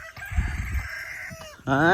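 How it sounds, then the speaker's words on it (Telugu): A rooster perched on a dung heap crows loudly nearby, a long drawn-out call, followed by the start of another crow at the end. "పెండ మీద ఎక్కి కోడి చూడు కొక్కరొక్కు అంటుంది."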